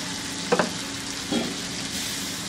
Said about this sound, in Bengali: এইটা দিয়ে এর সাথে একটু ভেজে নিতে হবে।